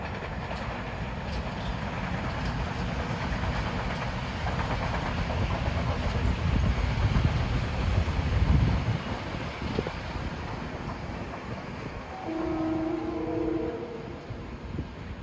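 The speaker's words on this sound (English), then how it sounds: "approaching Croton Harmon bound at 5:27 is train 747 with M3s" Metro-North train 747 with M3 cars, bound for Croton-Harmon on the Hudson line, rumbles past in a broad, steady roar that swells and fades over several seconds, with wind buffeting the microphone and no voices.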